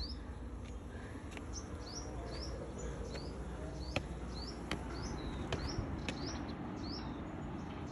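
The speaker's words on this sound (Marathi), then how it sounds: "आपण इथे पक्ष्यांची किलबिल पण ऐकू शकताय" Small birds chirping in the morning outdoors, repeated short high tweets at an even pace over a faint steady background hum, with occasional ticks and no talking.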